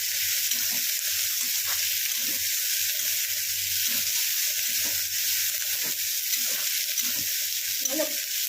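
Onions softening in a hot pan give a steady broadband sizzle throughout, with a spatula or spoon scraping and stirring them in irregular strokes every second or so, close by and with no talking.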